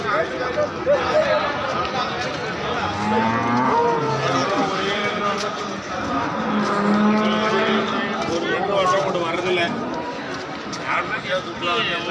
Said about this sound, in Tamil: சன நாட்டு கிராஸு கண்ணு போட்டுருக்குது சந்தைக்கு வந்து